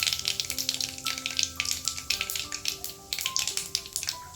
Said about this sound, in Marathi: मोहरीला चांगली फोडणी बसली जिरं चांगलं फुललं